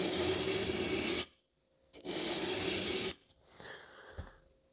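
A knife blade is rubbed across abrasive grit in two long, steady rasping strokes separated by a brief pause, followed by softer scraping and a small knock, close by.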